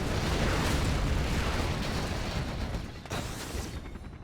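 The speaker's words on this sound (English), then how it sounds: "A big rocket pod attack." Rocket pod attack explosions in the real-time strategy game C&C Generals Zero Hour, a dense, loud roar of overlapping blasts and booms that rumbles continuously before tapering off, with no speech.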